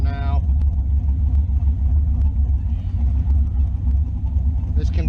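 A Camaro fitted with a new cam drives and shifts through gears, its engine giving a steady, loud low rumble throughout, with a person talking over it.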